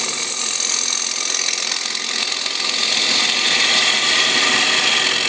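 A 3/8 inch deep fluted hollowing bowl gouge is ground on a grinder, giving a steady bright rasping hiss with a rough, chattering texture, close and continuous for about five seconds with no talk.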